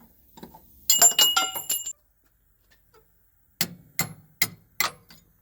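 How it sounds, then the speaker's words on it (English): A hammer striking a bar to knock a torque rod bolt out of a Freightliner Cascadia semi truck: a quick burst of ringing metallic blows, a pause, then four sharp, evenly spaced clangs close by. "you can hit it, and the bolt's gonna come out"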